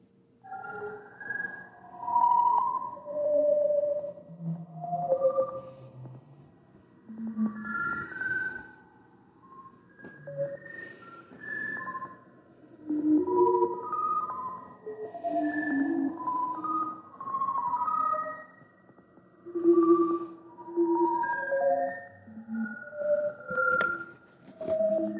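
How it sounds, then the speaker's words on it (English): Sonification of Chandra X-ray observatory imagery of the Eagle Nebula: soft, drifting synthetic tones in scattered bell-like and sonar-like notes, rising and falling in gentle swells over a faint low hum, quiet and unhurried. "But Chandra's X-ray observatory imagery and sonification produced this sound."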